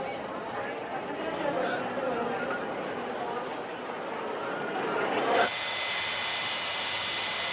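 Steady, moderate engine drone inside an Aero Peru airliner in flight, a continuous broadband roar that shifts tone abruptly partway through, with a voice speaking over it.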